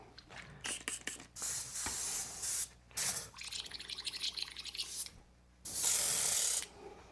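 An airbrush sprays clear coat over a painted tabletop miniature in short hissing bursts of varying length, separated by brief pauses and faint mechanical clicks, close and fairly quiet.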